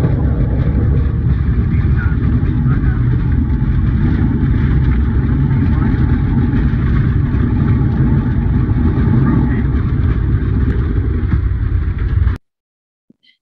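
A small plane taking off from a remote atoll runway, a loud steady engine drone that holds for about twelve seconds and then cuts off abruptly.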